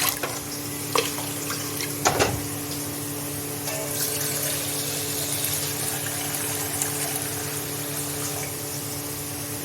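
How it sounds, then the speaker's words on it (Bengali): Water is poured from a tap or jug over washed rice and lentils in a pot for khichdi, a steady close hiss and trickle that runs on evenly, with a few small clinks near the start. "দিয়ে দিচ্ছি জল।"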